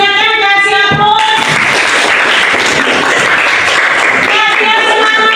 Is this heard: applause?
yes